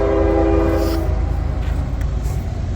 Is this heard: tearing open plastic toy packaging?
no